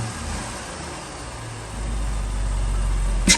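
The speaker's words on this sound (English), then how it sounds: "I'll do a baby rev or two. Nothing too crazy." A supercharged car engine fitted with a Rotofab cold air intake gives a couple of small revs, a low steady idle rising into a deeper, fuller drone, heard up close with no talking.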